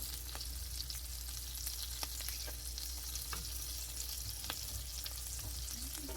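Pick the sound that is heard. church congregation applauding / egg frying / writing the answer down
egg frying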